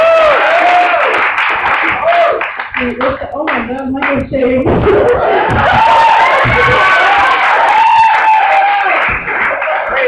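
A student meeting audience claps, cheers and whoops loudly in a lively burst that rises and holds, with people shouting and talking over the noise.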